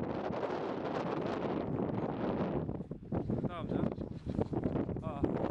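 Rough wind gusts across a snowy mountain in Kamchatka, a steady roaring blast buffeting the microphone for several seconds, then easing into choppier, uneven gusts with faint voices underneath.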